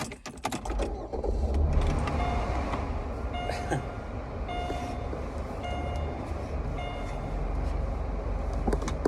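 Interior of a hot car, filled with a steady low rumble and road noise, a few faint clicks and rattles over the continuous drone, with no voices.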